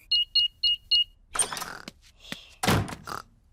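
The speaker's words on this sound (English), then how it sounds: "I'll just switch the alarm off." Four quick electronic beeps from a house alarm being switched off sound in an even rhythm, followed by clicks, a thunk and rustling handling noises nearby.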